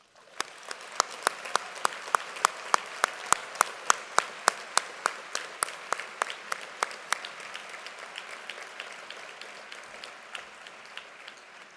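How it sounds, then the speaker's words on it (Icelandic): A graduation audience at the University of Iceland gives the graduates a long round of applause, heard as a strong, steady, slightly rhythmic clapping that holds for about twelve seconds and eases only a little toward the end. "Við skulum gefa þessum myndarlega hópi gott klapp."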